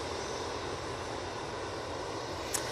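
A Ryanair plane arriving from Copenhagen at Manchester Airport makes a steady, distant broadband jet roar, even and unbroken throughout, with no talk.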